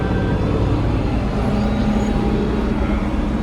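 A John Deere 4450 tractor engine runs at a steady, loud, dense rumble close by, holding an even low drone with no clear rise and no speech.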